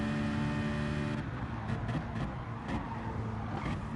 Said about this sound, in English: let's see the Porsche cruising away from the Citroen here